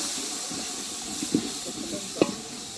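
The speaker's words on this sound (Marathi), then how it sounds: "इकडे या साईडला जनता भाजी फोडणीत टाकली जातात." A large batch of jackfruit vegetable is tipped into hot tempering oil for an outdoor community feast. It gives a soft, brief sizzle and hiss with a couple of faint stirring knocks, fairly quiet overall.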